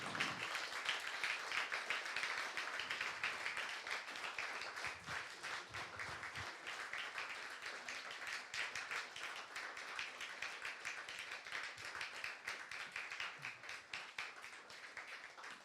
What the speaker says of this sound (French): Est-ce que nous pouvons encourager nos amis par des applaudissements?